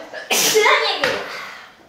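A sharp, theatrical sneeze bursts out loud and close, an explosive noisy blast followed by a second gust that trails off, sounding more like an exaggerated vocal performance than an ordinary sneeze.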